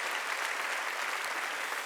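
A church congregation at a Korean Wednesday worship service bursts into steady, dense applause, the clapping filling the room evenly for two seconds with no voices over it.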